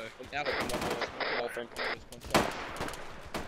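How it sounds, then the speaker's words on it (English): Gunfire in the military video game Arma 3, with bursts of rifle and automatic fire crackling over a busy battlefield mix while voices talk throughout. "try and find out what's shooting us"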